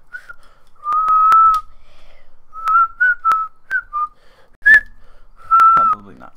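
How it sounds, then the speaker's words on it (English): Someone practising whistling during a pre-typhoon livestream: short, clear, loud tones in uneven bursts separated by pauses, with a few sharp clicks between them. "Addison's working on developing those whistling skills."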